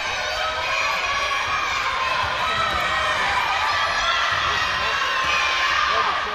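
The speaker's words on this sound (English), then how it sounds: "Everyone's cheering." A crowd cheers at a Netball Europe Open Challenge match between Emirates and the Cayman Islands, a dense, steady roar of shouts and whoops filling an indoor arena, with a commentator's voice over it.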